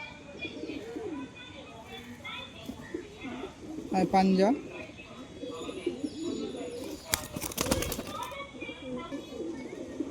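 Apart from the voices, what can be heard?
pigeons cooing, breeding pairs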